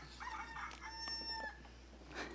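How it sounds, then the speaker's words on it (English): A rooster crows during a planning commission meeting, a single drawn-out cock-a-doodle-doo with rising and falling harmonic tones, fairly faint over room noise with no talk. "So does the rooster."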